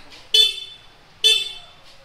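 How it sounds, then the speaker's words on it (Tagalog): Two short, bright horn honks from a 2023 Suzuki Raider 150 Fi motorcycle about a second apart, loud and close, with faint engine hum in between. "check natin yung horn guys, kung gaano ba kalakas"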